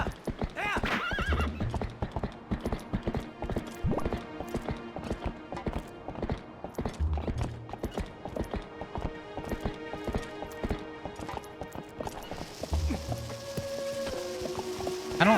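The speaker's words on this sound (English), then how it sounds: "Hello, horsey." Horse hooves clip-clop in a quick, steady rhythm in the video game The Legend of Zelda: Twilight Princess, with whinnies and game music and effects layered over them.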